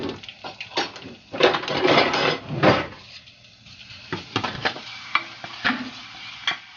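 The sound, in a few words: stirring garlic sizzling in butter and oil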